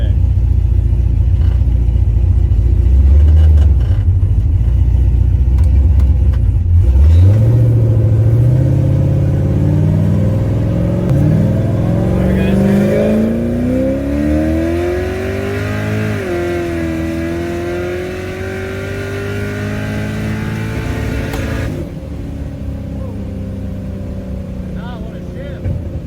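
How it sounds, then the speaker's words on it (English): A car engine with a 10-rib belt conversion and boost rumbles loudly at idle and then climbs in pitch through a second-gear pull, the revs rising and holding before the sound drops off near the end. "Probably only do like a second gear pull just to kind of see what it's doing."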